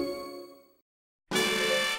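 A doorbell gives a two-note ding-dong in a children's toy-market setting: a ringing first chime fades to silence, then a bright second chime sounds loud and sustained to the end.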